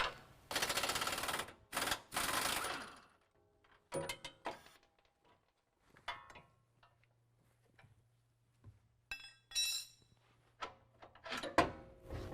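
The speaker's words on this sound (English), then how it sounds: "we need to remove our track bar from the frame, and that's going to be a 30mm bolt" The 30mm track bar bolt comes off the frame of a 2017 Ford F-250 Super Duty: two loud, rapid rattling bursts close by, then scattered metallic clicks and clanks over a faint low hum.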